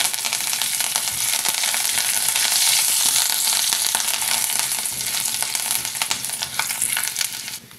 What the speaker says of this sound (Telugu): ఒక రెమ్మ కరివేపాకు వేస్తున్నాను